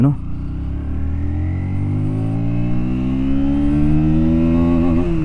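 A KTM Duke 160 motorcycle engine revs loud and close, its pitch climbing steadily through a smooth rising whine with a brief wobble near the top.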